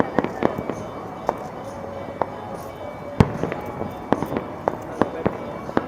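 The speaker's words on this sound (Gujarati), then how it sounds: "ભાવનગર વાળા લોકો ફટાકડા ફોડે છે" Firecrackers set off during Makar Sankranti celebrations in Bhavnagar, a string of sharp irregular pops and bangs, some close and loud, others fainter, over a steady outdoor background hum.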